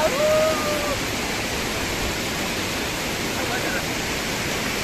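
Water rushing and swelling near a farmhouse in Karjat, a loud continuous broadband roar that fills the whole clip, with a faint voice briefly over it at the start.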